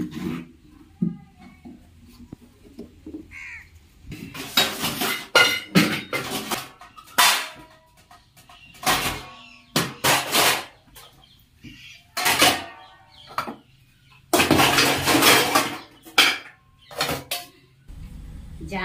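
Evening dishes, pots and vessels being scrubbed and rinsed by hand, with repeated clattering, scraping bursts and pauses between them, close by, and hens clucking in the background.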